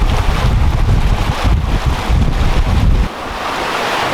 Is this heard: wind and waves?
yes